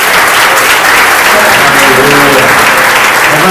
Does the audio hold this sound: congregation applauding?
yes